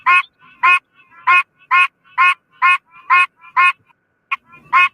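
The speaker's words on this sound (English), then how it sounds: "Have you ever heard a frog quack before?" Gray's tree frog calling in a steady series of about ten short, nasal, duck-like quacks, loud and close with even spacing and no voices.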